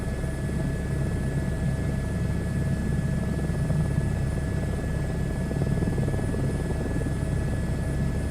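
An H125 helicopter in a flight simulator game hums with a steady rotor and turbine drone, constant and even throughout with no voices.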